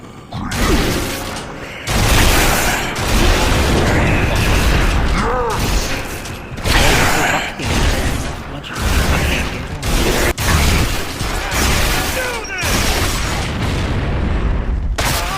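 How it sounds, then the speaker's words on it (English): Point-blank gunfire and exploding bodies in the Gears of War 1 video game: loud, punchy blasts and heavy mechanical clanks repeat in dense waves, with only brief gaps between them. "When you shoot someone point blank, their entire body explodes into pieces"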